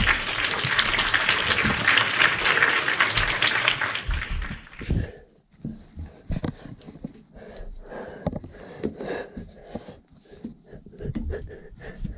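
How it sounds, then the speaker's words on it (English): A canned applause sound effect, a loud burst of clapping and cheering for about four seconds that cuts off abruptly, followed by close breathing, sniffs and quiet movement noises. "I have to cue up the applause for that."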